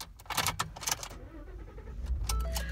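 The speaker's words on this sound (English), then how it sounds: "I'm just going to start the truck for you" A 2014 Ford F-150 XLT pickup being started: a short burst of clicks and rattles from the cab, then a low engine rumble settling into a steady idle, close and moderately quiet.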